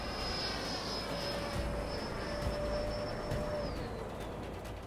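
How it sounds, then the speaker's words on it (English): A Freewing F-4 Phantom RC model jet flies past in gusty, bumpy conditions, its steady ducted-fan whine holding one tone and then dropping as it pulls away, with birds cooing faintly in the background. "giving her some fast flybys, a roll or two"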